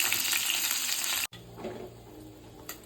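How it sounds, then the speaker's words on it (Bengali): Fish frying in a wok, a steady loud hiss of hot oil that cuts out sharply midway and resumes softer as the pieces are flipped over to cook the other side. "দেখো মাছগুলো একদম ভাজা হয়ে গেছে, মাছগুলো এবার উল্টিয়ে দিচ্ছি, অন্য সাইড হবে"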